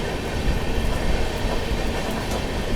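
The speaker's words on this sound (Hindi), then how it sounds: "भोपाल शताब्दी आ गई है।" A Bhopal Shatabdi Express passenger train pulls into an Indian station, a steady, close rumble of rolling wheels and carriages with faint clickety-clack, continuous with no break and no talk.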